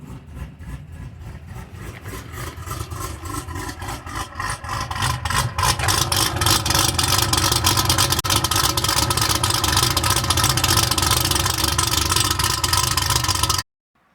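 Cammed LS3 V8 in a 2016 Chevy SS sedan idling in sport mode with a choppy, pulsing lope that builds into a louder, steadier roar before cutting off abruptly.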